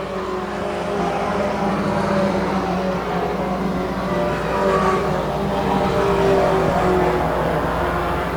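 Four-cylinder pro race cars lapping a short track at a Bracketts Market event, engines droning and revving steadily at mid distance throughout, with a continuous blended roar of several cars and no talk heard.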